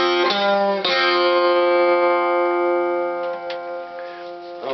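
An acoustic guitar plays one bar, with a few downward-plucked notes ringing together over an open string. The bar is played alone, near and fairly loud, with the strings left to sustain between the picked notes.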